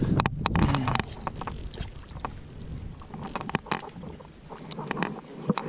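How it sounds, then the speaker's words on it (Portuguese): Strong wind gusting outdoors on the water during a fishing trip, with a blustery, rumbling roar and scattered knocks and rattles throughout, loud and close to the microphone. "ventania e frio."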